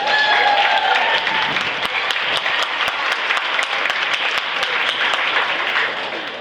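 A crowd at a police open day claps for a police dog handler, with steady moderate applause and a few sharp individual claps standing out, continuous throughout.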